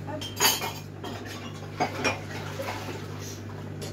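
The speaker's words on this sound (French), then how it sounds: "Je vais nettoyer ma casserole ici." A saucepan being washed in a kitchen sink, with metallic clinks and clatters of pan and utensils over a steady background hum. A brief word is spoken.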